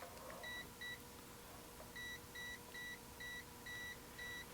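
Kaiweets HT208 clamp meter buzzer near an AC cord: two short paired beeps, a pause, then six evenly spaced beeps in a steady rhythm, fairly faint against a low background hum.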